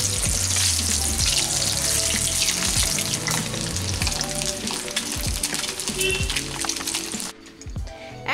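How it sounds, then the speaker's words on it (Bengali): Eggs fry loudly in hot oil in a pan for curry, a dense, close crackling sizzle with bubbling spatters that suddenly drops off near the end as the sizzle quiets. "ডিমগুলোকে আমি লাল করে ভেজে নিয়েছি"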